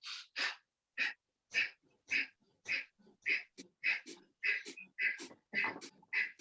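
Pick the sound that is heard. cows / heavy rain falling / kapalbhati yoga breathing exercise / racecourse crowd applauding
kapalbhati yoga breathing exercise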